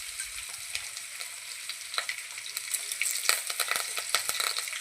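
Tempering seeds crackling in hot oil with dried red chillies, cumin and ginger-garlic paste, a steady close sizzle dotted with sharp pops that grow denser toward the end, no voices.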